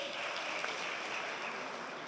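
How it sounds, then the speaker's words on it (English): A crowd at a COP28 summit session in Dubai applauds, giving a short, even burst of many hands clapping together at a moderate distance, steady and unbroken with no speech over it. "We can give them a round of applause"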